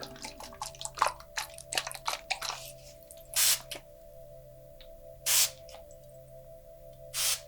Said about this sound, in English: I'm going to start above your head and just spray throughout your aura.